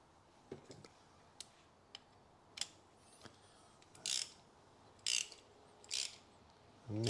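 Spark plug being hand-started and nipped up tight on a 2013 Toyota Aygo 1.0 petrol engine: a few scattered metallic ratchet clicks and taps, then several short louder rasping bursts near the end, close by and no talk.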